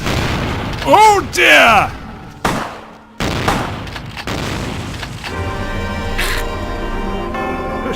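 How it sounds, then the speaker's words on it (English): Shotgun blasts in Vampire: The Masquerade - Bloodlines, several loud booming shots in quick succession near the start, with a voice exclaiming in between and game ambience continuing afterward. "The shotguns really do hurt."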